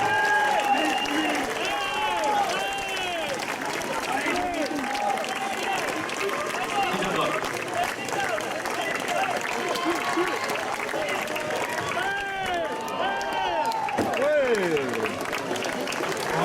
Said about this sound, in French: Et on applaudit Lilian Martin pour l'équipe de Cabane.